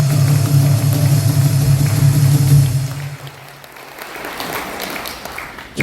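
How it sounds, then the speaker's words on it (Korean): A large audience at a political rally bursts into loud, sustained applause, holding strong for about three seconds before thinning and fading to scattered clapping. "큰 박수 한번 해주시기 바랍니다."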